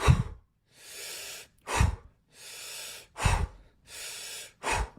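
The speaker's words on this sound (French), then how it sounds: "ça donne j'inspire comme ça et j'expire" Breathwork exercise with sharp, forceful inhales through the nose alternating with longer, softer exhales, repeated in a steady rhythm about four times, close and clear with no talking.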